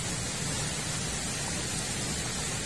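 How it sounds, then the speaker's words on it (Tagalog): Dense, steady roar of typhoon wind-driven rain from Typhoon Ulysses, loud and continuous like a heavy storm pouring down, with no voices. "ramdam na po namin dito ito pong matinding bugso ng hangin at ulan"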